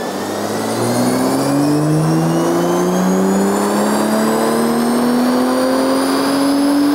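A 2025 BMW M340i with the B58 engine, JB4 map 5 tune and BMS cold air intake, revs hard on a dyno, one loud sustained pull climbing steadily in pitch, close and continuous with no voices.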